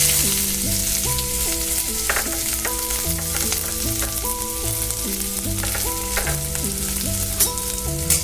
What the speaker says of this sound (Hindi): जीरा डालने के बाद इसमें डालेंगे बारीक कटा हुआ प्याज।